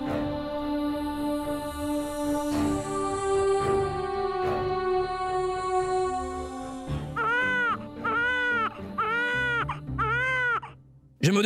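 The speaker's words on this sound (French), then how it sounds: "Je me demande d'où vient le bruit des cris d'un enfant qui pleure." A newborn baby cries in a drama scene, a long wailing cry that later breaks into rising and falling repeated sobs, heard over a sustained musical background.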